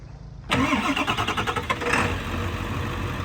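2000 Ford F-450 crane utility service truck with a 7.3 liter Power Stroke turbo diesel cranking briefly with rapid pulses, then catching and settling into a steady close idle.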